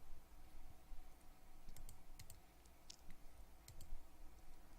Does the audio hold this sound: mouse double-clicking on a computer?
yes